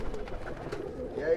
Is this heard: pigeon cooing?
yes